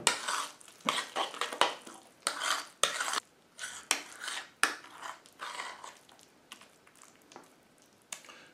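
A spoon stirs a raw-egg bread mixture in a bowl with a steady series of close scraping and clinking strokes, some softer and wetter, with no talking.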